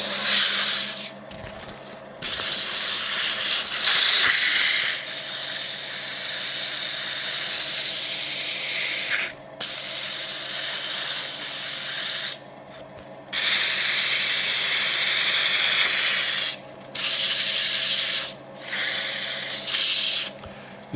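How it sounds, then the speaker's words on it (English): Steady, close hissing abrasion of sandpaper on a thin wooden stick spinning on a lathe, with a constant low motor hum beneath, broken by several short pauses where the scratching stops and starts again. "do a little bit of sanding"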